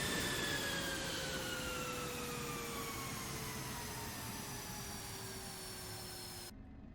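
An F-16 jet engine in the DCS flight simulator spools down after the throttle is cut, its loud whine sliding steadily lower in pitch over a broad roar before it stops abruptly.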